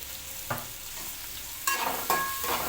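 Onions fry gently in a pan for egg curry under a soft, continuous sizzle, with a few scraping stirs of a spoon against the pan standing out close up.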